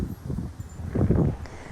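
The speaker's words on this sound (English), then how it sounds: "the wind had seriously picked up" Strong wind on a very windy day gusts outdoors, buffeting the microphone with a low, rumbling roar that swells and fades over a couple of seconds.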